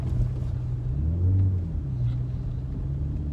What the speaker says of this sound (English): the car that just passed us literally has one little spot cleaned